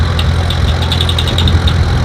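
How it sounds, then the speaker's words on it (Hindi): A small DIY toy tractor's motor runs close by with a steady, continuous buzzing hum and a low droning undertone that holds even throughout, with no voices. "वाह, ट्रैक्टर चल रहा है"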